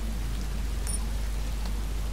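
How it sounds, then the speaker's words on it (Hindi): Steady night rain from the video game Detroit: Become Human, a soft even hiss of falling drops that holds at a constant level for the whole stretch, with a low hum underneath and no voices. "रात का समय, बारिश हो रही है"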